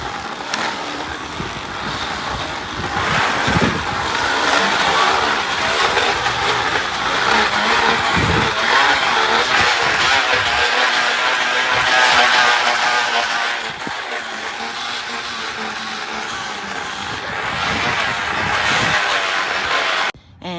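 A bicycle with a plastic water bottle pressed against the spinning tire, giving a loud continuous motorcycle-like buzzing drone that rises and dips with speed, close up for about twenty seconds, no talking.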